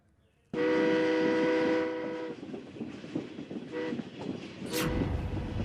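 Mumbai local train running, starting abruptly with a loud horn blast, then steady rumbling and rail clatter close by for several seconds.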